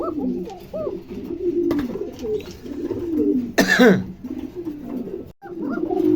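Pairs of pigeons kept for wholesale sale coo repeatedly at close range in soft, rolling calls, with a person's cough breaking in partway through.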